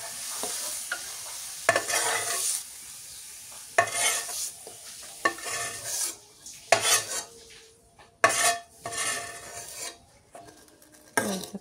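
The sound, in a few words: vegetables frying and being stirred in a pan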